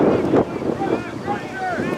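Gusty wind buffets the microphone outdoors at a high school soccer game, with rough roaring bursts while whistles and faint crowd voices come through in the background.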